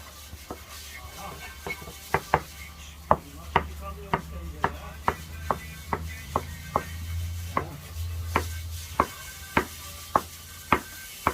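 Knife chopping ingredients for kuru cacık on a board, a steady series of sharp, evenly spaced knocks over a low outdoor hum, with no talk.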